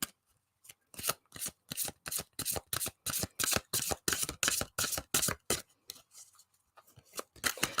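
Tarot cards shuffled by hand in a steady run of crisp, rapid riffling bursts, close and fairly loud, continuing for several seconds with brief pauses and no talking.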